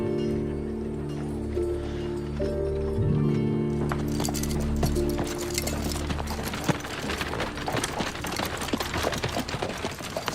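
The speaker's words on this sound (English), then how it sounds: "Our horses are tied up on the street." Horses on a street clop their hooves in a loud, irregular patter that starts after a sustained musical tone fades, with a strong continuous rumble behind.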